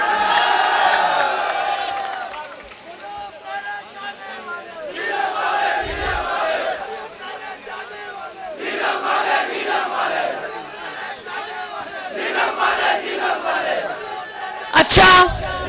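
A crowd chants and cheers in loud, surging waves at a political rally where Maryam Nawaz is speaking. The bursts of shouting are separated by short lulls, and a sharp loud knock lands near the end.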